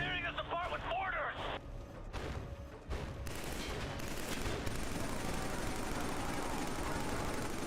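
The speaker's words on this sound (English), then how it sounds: "It's tearing us apart with mortars!" Mortar fire and gunfire pound in Killzone 3 combat, dense bursts of explosions and shots building into a constant roar, with voices talking over parts of it.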